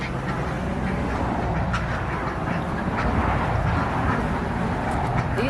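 A crowded flock of ducks quacks continuously and loudly nearby during a poultry round-up, the overlapping calls forming a dense, unbroken clamor.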